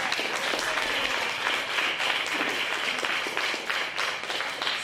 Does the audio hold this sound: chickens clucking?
no